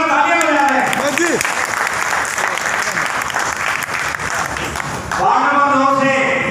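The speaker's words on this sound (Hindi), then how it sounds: "एक बार जोरदार तालियां बजा दें" Audience applause for a newly elected ward councillor at an honour ceremony in a Brahmin community hall, loud dense clapping filling the room with a voice over it early on, then dropping briefly before resuming.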